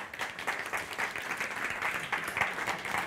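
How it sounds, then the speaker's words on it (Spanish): A crowd claps steadily throughout, a dense wash of applause with no voices standing out. "Un aplauso al cumpleañero."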